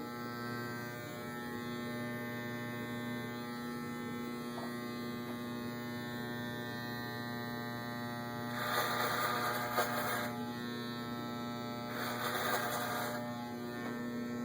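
Electric hair clippers with a 1.25 guard buzz in a steady, quiet mains-like drone while cutting hair for a waves haircut, with a couple of brief brushing bursts.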